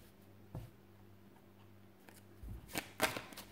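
Tarot cards being shuffled for a reading give soft, faint riffling and slapping sounds near the end, after quiet handling noise and a low background hum.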